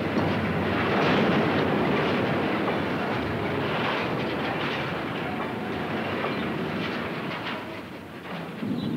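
A freight train rolls steadily past at close range, a loud continuous rumble with rhythmic clickety-clack of wheels over rail joints and a faint squeal now and then, with no voices.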